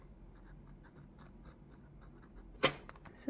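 A Stipula fountain pen nib scratching softly across paper in a series of faint, rapid strokes, followed by a sharper tap near the end; quiet and close, with no talking.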